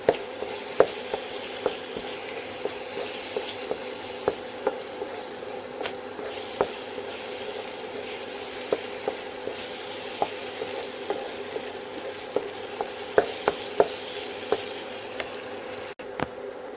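A thickening carrot and milk dough for kozhukattai being stirred in a pan: a faint continuous sizzle with light, irregular scraping ticks from a spoon, close by and without talk.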